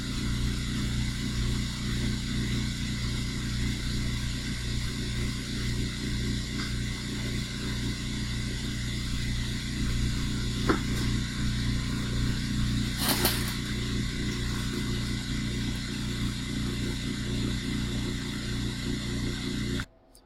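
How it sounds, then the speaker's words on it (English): A steady mechanical drone runs throughout, a CNC vacuum clamping pump humming at constant loudness with a brief hiss partway through, then cutting off at the end. "that noise you heard was my vacuum pump"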